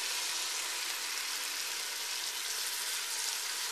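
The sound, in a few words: champagne sizzling in pan with mushrooms for risotto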